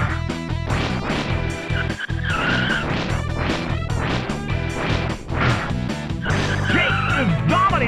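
Race cars roar and crash through a loud, continuous Rock n' Roll Racing game sequence, with engine whines, tire squeals, impacts and synthesized music layered densely throughout.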